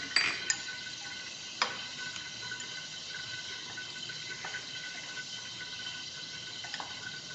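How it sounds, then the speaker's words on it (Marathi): Curd is stirred into soybean pulao in a pot, with a few light spoon clinks and soft wet mixing sounds, faint and close, without talk. "ते दही टाकूया. ते चांगलं मिक्स करू आपण."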